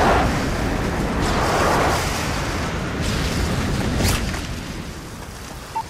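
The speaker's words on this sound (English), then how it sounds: "Delta airstrike on the way." Airstrike explosions in Call of Duty: Modern Warfare 3 rolling as a heavy, continuous rumble of blasts, loud and close, slowly fading toward the end.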